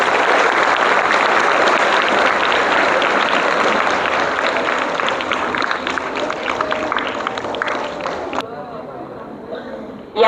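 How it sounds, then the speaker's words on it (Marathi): An audience at a ceremony in Talegaon Dabhade applauds the teachers, sustained loud clapping from a large crowd that holds steady for several seconds before cutting off abruptly, with faint voices underneath. "सर्वांनी जोरात आपल्या शिक्षकांसाठी टाळ्या वाजवायच्या आहेत."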